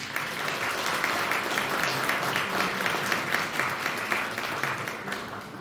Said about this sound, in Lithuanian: Pradedam jūsų plojimai